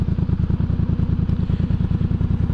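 A Yamaha MT-07 motorcycle engine, around 689–700 cc, idles with a steady, throbbing low rumble and rhythmic pulses, close and fairly loud, with no talking.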